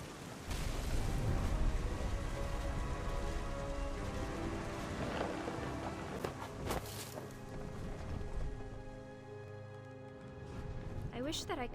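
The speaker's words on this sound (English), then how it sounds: "The thunder sounded much too close and full of angry power." Steady rain hisses loudly throughout a stormy scene in the video game What Remains of Edith Finch, with low thunder rumbling beneath and a few sharper crackles near the middle.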